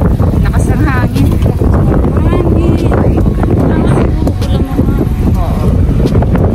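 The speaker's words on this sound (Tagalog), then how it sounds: "Lakas ng hangin." Strong typhoon wind roars and buffets the microphone in a heavy, constant low rumble, with people talking underneath it throughout.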